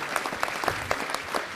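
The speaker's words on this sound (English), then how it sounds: "let's give them a round of applause" A city council meeting audience breaks into a brief round of applause, dense overlapping claps from a moderate-sized crowd in an indoor chamber.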